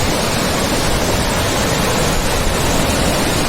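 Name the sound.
waterfall flowing into the Kalpganga river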